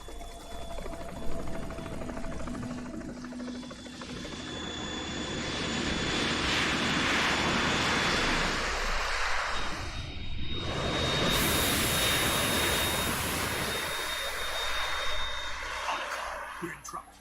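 A Harrier jet roars in Metal Gear Solid, its engine swelling to a loud, sustained whine and rush in the middle, dipping briefly, then surging again with a high shrill tone.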